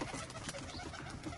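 Pigeons in a newly built home loft, a dense, steady flutter and coo of many birds close by, continuous with no pauses.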